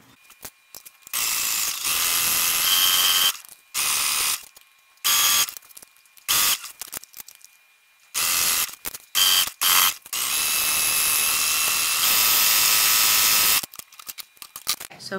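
A sewing machine stitches along pinned fabric in repeated bursts of fast, clattering, ratchet-like whirring, separated by short quiet pauses, close up and fairly loud.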